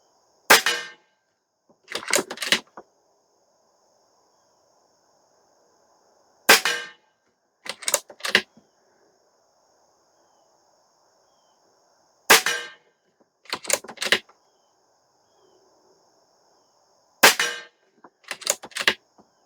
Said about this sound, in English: We'll just shoot a couple groups at that, make sure we're good, and then we'll go out to 50.